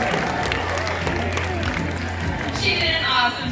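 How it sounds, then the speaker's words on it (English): Audience applause and cheering in the stands at a sea lion show, a broad steady wash of clapping with crowd noise throughout and a brief rise near the end. "Give her a round of applause, everybody."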